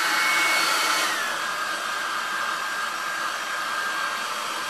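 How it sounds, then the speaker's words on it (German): A hair dryer blowing on freshly poured acrylic paint runs as a loud, steady broadband whoosh, slightly louder at the start, then constant with no talk. "So I have to use my hair dryer."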